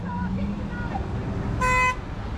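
A car horn toots once, loud and close, after a stretch of talking with road traffic in the background.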